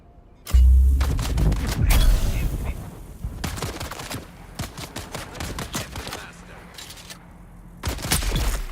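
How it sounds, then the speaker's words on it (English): Grenade explosion and gunfire in Dune: Awakening: a heavy boom followed by bursts of rapid gunfire, a lull with scattered shots, then another sharp volley near the end, loud and close. "Tossing grenade."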